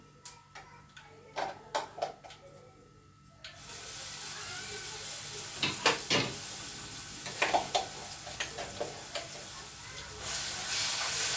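Hot tempering oil crackles and sizzles steadily as ivy gourd chutney goes into the pan, a sustained hiss with scattered pops after a few earlier sharp ticks, fairly faint.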